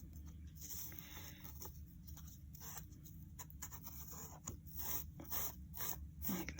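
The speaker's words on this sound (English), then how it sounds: "I've got a little foam scraper here. I'm just going to use that to help get the excess off." A small foam scraper rubs and brushes across a crafting surface to clear excess gilding flakes, making soft, intermittent scratchy strokes in an irregular rhythm, close and quiet.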